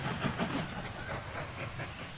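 Train running in the railway-building video game Mashinky, a steady rolling rumble with soft rhythmic clacking and hiss, moderately loud and continuous without voices.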